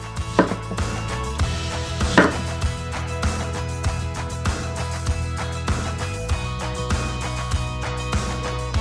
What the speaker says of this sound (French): Nous découpons 5 oignons en rondelles.